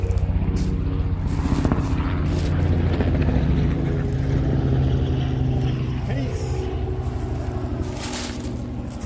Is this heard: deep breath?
no